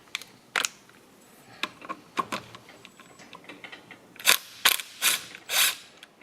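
A socket wrench ratchets in short bursts while removing the flywheel of a Yamaha GT80 two-stroke dirt bike, with sharp close clicks and louder metallic clacks near the end, and no talking.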